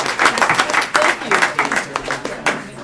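An audience at a neighbourhood council meeting breaks into applause, a short burst of choppy, uneven clapping.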